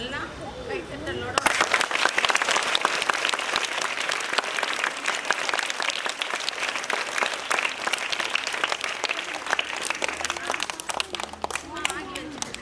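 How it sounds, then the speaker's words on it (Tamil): Crowd applause at a birthday celebration event, a dense burst of clapping that starts suddenly after a brief spoken moment and continues steadily, loud and close, for over ten seconds. "அவங்களுக்கு ஒரு நல்லா கைத்தட்டலோட"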